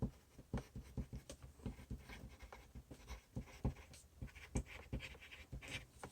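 A pen writes on paper in a quick series of short, scratchy strokes at a fairly even rhythm, faint and close, with no talking.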